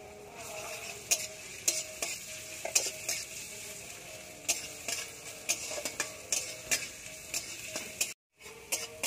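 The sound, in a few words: chopped onion and garlic paste frying in a pan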